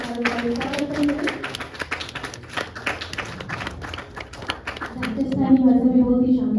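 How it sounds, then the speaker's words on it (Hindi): Audience applause for the cast of a Rajasthani-language theatre play, a dense run of claps lasting several seconds, with a voice speaking over the start and end. "जोरदार तालियों से सभी कलाकारों का स्वागत करें"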